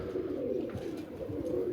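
Pigeon cooing from a racing pigeon being prepared for flying, a low soft burbling coo repeating steadily through the moment, close and alone with no talk.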